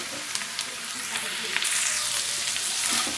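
Ivy gourd (dondakaya) pieces fry in a pan with a steady, close sizzle that swells louder partway through, with light stirring scrapes.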